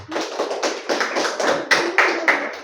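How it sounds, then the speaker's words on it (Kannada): An audience at a government primary school hall claps for the zonal-level first-place kabaddi team, in a burst of irregular, fairly loud hand claps lasting a few seconds, with a few sharper claps standing out near the end. "ನೀವೆಲ್ಲ ಒಮ್ಮೆ ತಾಟಿ ಬಿಟ್ಟು ಅವರಿಗೆ ಕ್ಲ್ಯಾಪ್ ಹಾಕಿರಾ"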